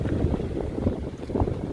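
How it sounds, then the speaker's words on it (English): Strong, steady wind buffeting the microphone, a low rumbling roar with gusty swells and no voices. "It is windy."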